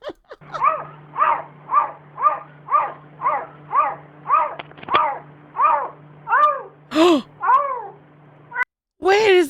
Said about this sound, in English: Looks like a really distressed cat.